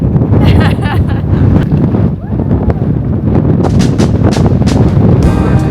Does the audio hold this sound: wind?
yes